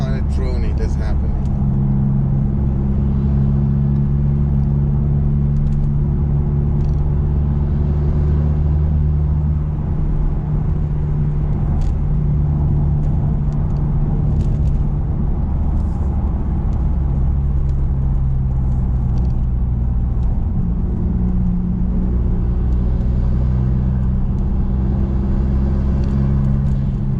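Honda Civic FK2 fitted with a Tegiwa B-pipe exhaust cruising steadily at 60 mph in sixth gear, giving a continuous low droning hum inside the cabin under road rumble, with someone talking over it.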